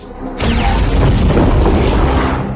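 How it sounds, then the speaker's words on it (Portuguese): A WWII sea mine is destroyed in a controlled explosion, a single loud, deep boom that bursts in after a brief pause and rolls on as a sustained rumble. "A munição foi levada para um lugar seguro e destruída em uma explosão controlada."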